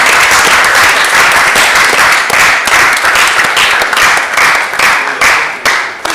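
A crowd at a gathering for state governors claps loudly and continuously, a dense wash of hand claps that swells and dips slightly before tapering near the end.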